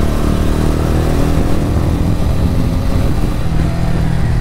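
A TVS Ronin motorcycle cruises along a road, its engine a loud, steady drone blended with rushing wind noise, constant throughout with no speech.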